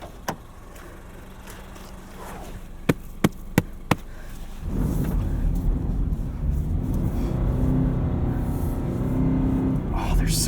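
A Subaru BRZ in winter snow: a few sharp clicks and door or interior thumps, then the engine rumbles and the car pulls away, a low steady drive noise building up close from inside the cabin.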